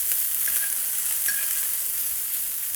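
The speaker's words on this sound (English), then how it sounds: "kind of baste the fish" Fish sizzling in a hot pan with butter and thyme as it is basted with a spoon, a steady bright frying hiss with a couple of soft scraping strokes.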